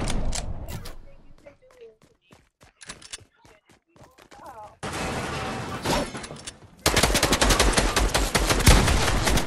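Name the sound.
shotgun fire in video game Fortnite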